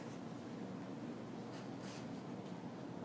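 Steady pen scratching on paper while a 16-kilogram NO2 figure is written out for a stoichiometry problem, a continuous soft scraping that stays close and even for about three seconds with no talking.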